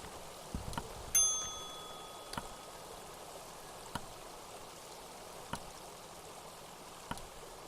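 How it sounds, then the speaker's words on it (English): In the video game Kentucky Route Zero, a bell rings once with a bright, lingering metallic tone. Soft sharp ticks recur every second or so over a quiet, running-water ambience. "let's ring this bell"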